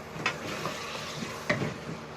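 Tomatoes sizzle in a pot for Sindhi aloo chicken biryani, a steady frying hiss broken by two sharp stirring scrapes.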